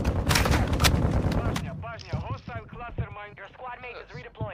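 A loud burst of rapid gunfire in Call of Duty: Warzone fills the first two seconds, then gives way to people talking over fainter game sounds.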